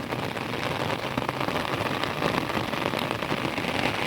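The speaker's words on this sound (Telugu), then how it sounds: "వర్షం పడేది పడుతుంది" Steady, heavy cyclone rain pours down without a break, a dense hiss of drops hitting surfaces all around.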